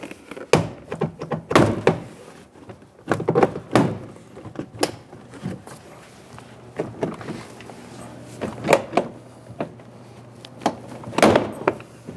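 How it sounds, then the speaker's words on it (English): Plastic push pins snapping loose as a rear door panel is pried off a 2011-2019 Ford Explorer, a series of sharp pops and thunks in irregular bursts, close and fairly loud. "we're dislodging the plastic push pins"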